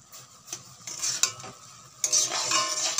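Carrot laddu mixture with sugar, nuts and cardamom is stirred in a pan as it cooks, giving a steady close sizzle with scraping spoon strokes that swell louder partway through.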